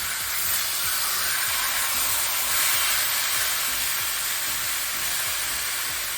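Chicken breast sears in a hot pan, giving a steady, loud, close sizzle with a continuous hiss and small crackles and pops that run without a break, and no voices over it.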